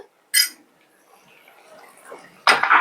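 Chicken stirred with garam masala in a pan, two bursts of metal spoon scraping and clinking against the pan separated by a quiet stretch with faint background sounds.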